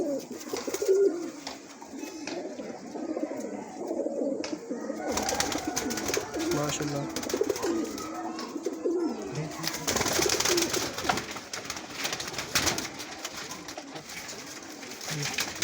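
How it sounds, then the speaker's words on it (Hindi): Kasuri pigeons coo in a breeder's loft near Islamabad, Pakistan, with repeated soft, throaty rolling calls close to the microphone. Someone speaks briefly over the birds. "कसूरी कबूतर बहुत अच्छी मादी है"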